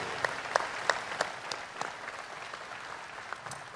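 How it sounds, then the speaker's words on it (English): An audience at the Ohio State Fair Sale of Champions gives a round of applause, with scattered distinct claps near the start thinning out into a lighter patter that fades toward the end. "Let's give them a round of applause, everybody."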